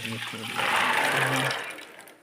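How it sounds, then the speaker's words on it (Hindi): Water pours into a pressure cooker holding soaked chickpeas, a steady splashing fill of about a second that follows some speech and then fades out. "थोड़ा सा पानी और शामिल करेंगे"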